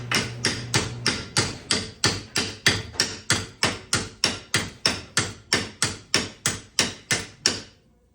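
A hammer taps on sticky brake caliper slide hardware in a quick even rhythm, around twenty sharp metallic strikes close up with nobody talking.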